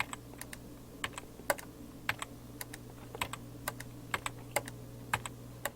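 Computer keyboard keys tapped one at a time in a quiet studio, a series of about twenty light, crisp clicks at an uneven but steady pace, close and clear over a faint low hum.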